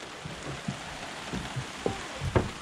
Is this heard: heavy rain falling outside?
yes